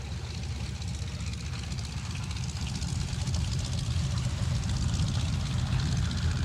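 Propeller engines of a Boeing B-17 Flying Fortress bomber drone in a steady, continuous low roar with a faint rhythmic beat, heard alone at moderate distance.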